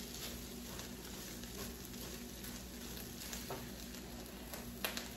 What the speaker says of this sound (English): So I want to make sure my rice is frying